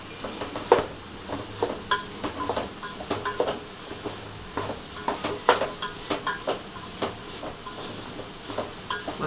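Green chillies and masala sautéing in a pan for biryani dalcha, a soft sizzle under repeated scraping and stirring strokes at close range.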